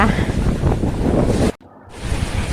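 Big sea waves surge and wash close by at sea, a loud continuous roar with wind noise buffeting the microphone, broken by a brief sudden dropout before the rush resumes.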